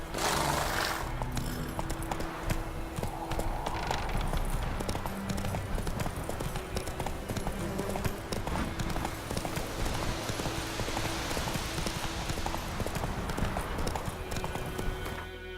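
Hooves of the horse Roach clip-clop steadily in The Witcher 3, a continuous rhythmic trot close by over ambient game sound, with occasional snorts.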